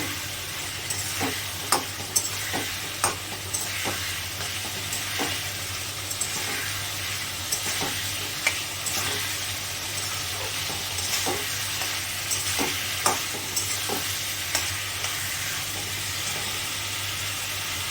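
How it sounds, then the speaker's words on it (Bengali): Masala spice paste stir-fried with water in a pan for a rohu fish curry: a steady close sizzle with repeated scraping stirs of a spatula at an uneven rhythm, no voices. "এবার জল দিয়ে ভালো করে মশলাটা কষিয়ে নেবো যত সময় কাঁচা গন্ধ থাকবে একদম সুন্দর করে মশলাটা কষিয়ে নিতে হবে"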